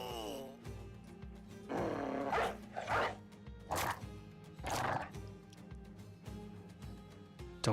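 Dog barks in the Battle Brothers video game, several sharp bursts over a steady layer of in-game music and battle noise.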